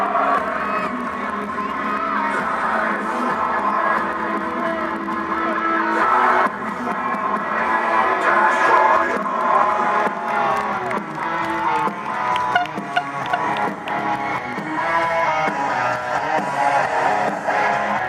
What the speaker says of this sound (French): Mesdames et messieurs, un tonnerre d'applaudissements pour Louis.